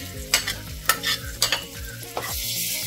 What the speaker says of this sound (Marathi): हे वाटण छान अगदी तेल सुटेपर्यंत आपल्याला ह्याच्यामध्ये फ्राय करायचे